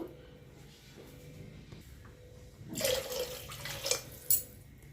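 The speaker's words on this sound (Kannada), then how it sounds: "ಅಂಥದ್ದೇ ಗ್ಲಾಸಲ್ಲಿ 2 ಲೋಟದಷ್ಟು ನೀರನ್ನು ಸೇರಿಸ್ಕೋಬೇಕು" Water is poured from a glass into a pot of rice for tomato bath, a brief splashing rush in the second half after a quiet start, ending with a few sharp drips and clinks.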